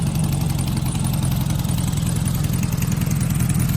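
A motorcycle powered by a Volkswagen car engine idles steadily up close, a loud, even low rumble with a fast regular pulse and no voices.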